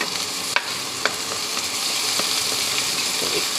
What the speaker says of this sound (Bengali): তেলটা গরম হয়ে গেছে, তো আমি এর মধ্যে দিয়ে দেবো পেঁয়াজ আর লঙ্কা।